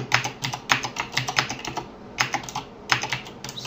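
Rapid typing on a computer keyboard at a desktop, with bursts of close, crisp key clicks separated by a short pause, and no voices.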